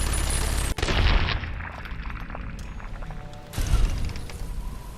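Gunshot in Fallout: Tale of Two Wastelands: a sharp, loud shot cracks out early, followed by a lingering ambient tail, then a second heavy boom near the end, no talking over it.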